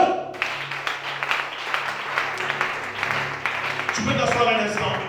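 A church congregation claps and cheers together during a worship service, steady applause of moderate loudness with a voice speaking over it near the end.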